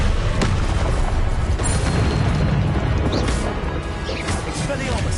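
Confringo explosion spell going off in the video game Hogwarts Legacy: a loud, dense burst of booming, crashing blasts under continuous layered game action and noise, with a sharp impact early on.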